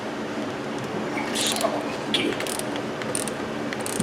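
A 14 mm ratchet works loose a hidden rear brake bolt on a Hyundai Elantra, giving a few sparse clicks over a steady garage background hum.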